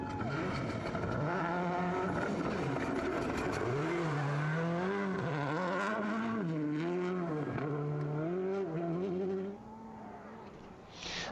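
A WRC rally car screams through a tricky gravel stage at the 2005 Rally Mexico, its engine climbing and dropping through rapid gear changes, loud and close, with a commentator talking over it before it fades.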